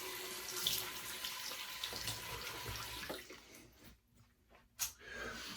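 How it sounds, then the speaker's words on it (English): Cold water runs steadily from a bathroom tap for a post-shave rinse, a broad close hiss that breaks off near the end with a couple of brief splashes. "Cold water rinse, we're gonna close those pores"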